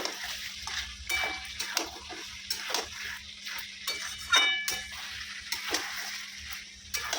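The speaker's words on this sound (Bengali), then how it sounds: "ফুলকপি আলুটাও একটু মশলার সাথে কষিয়ে নিই" Cauliflower and potato pieces stirred and sautéed with spice masala in an oiled pan, with repeated spatula scrapes and clinks against the metal over a low, steady sizzle.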